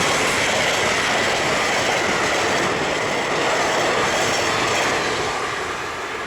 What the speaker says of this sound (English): Looks like a MARC train that Amtrak borrowed.